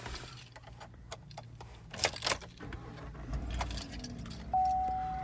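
Keys jangle in short bursts near a traditional ignition on a 2019 Chevrolet Silverado Custom with the older 5.3 liter engine, followed by a steady single-tone warning chime from the cab.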